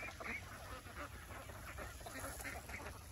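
Jinding ducks on a dragon fruit farm quack and honk in scattered, faint calls over a constant low background hum, with no clear speech.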